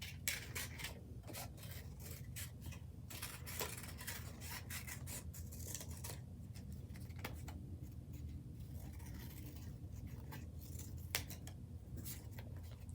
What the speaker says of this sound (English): So I'm gonna quickly cut out my circles here.